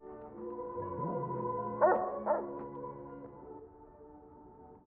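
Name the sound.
dog barking in Fargo TV episode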